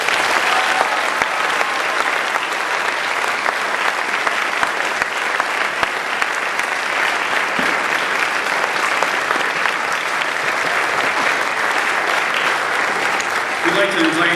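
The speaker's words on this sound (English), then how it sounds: "Can we get another round of applause for all of our performers?" Audience applause for the performers at a church stake music program, a dense, steady wash of clapping from a large crowd that holds at full level for the whole stretch.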